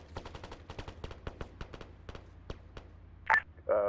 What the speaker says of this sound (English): We just shot a civilian with.